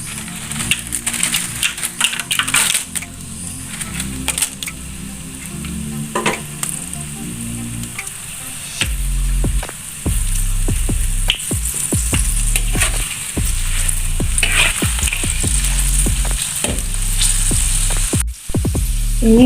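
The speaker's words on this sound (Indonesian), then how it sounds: "Kita goreng dulu kerupuknya" Cassava crackers, made from boiled, thinly sliced and sun-dried cassava, fry in hot oil with a steady, loud sizzle and bubbling crackle that builds and stays dense throughout, with occasional clinks of stirring.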